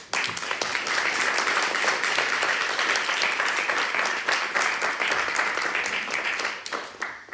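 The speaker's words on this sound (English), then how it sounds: "We can give both our panelists one last round of applause" Sustained audience applause after a panel discussion on counter-terrorism and empire, steady dense clapping filling the room for several seconds before tapering off near the end.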